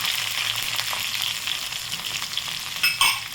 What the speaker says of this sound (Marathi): तेल गरम झालेलं आहे, याच्यामध्ये घालायचे जिरे, लसूण घालायचा